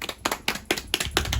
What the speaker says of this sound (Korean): 성공 박수